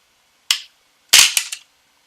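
A mechanical airsoft grenade triggers with a sharp snapping pop, followed a moment later by a louder burst and a couple of quick follow-up cracks, all close and loud against silence.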